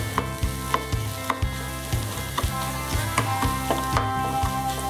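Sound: sautéing onions and spice powders in a pan

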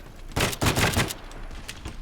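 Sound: M4A1 rifle gunfire in a video game

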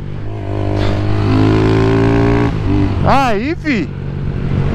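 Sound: Honda Fan 150 motorcycle accelerating in second gear

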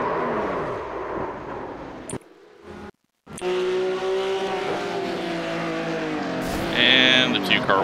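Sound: race car crash with tire squeal in iRacing video game

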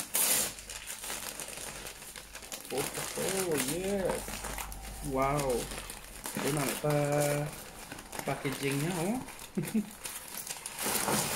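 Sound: unwrapping a package opened with scissors

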